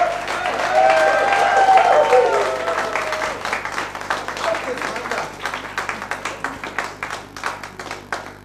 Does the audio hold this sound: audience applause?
yes